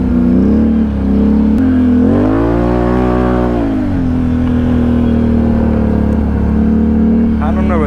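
A Can-Am engine drones loudly at high RPM, holding a steady buzzing pitch with a rising-and-falling rev surge near the start, heard close up throughout.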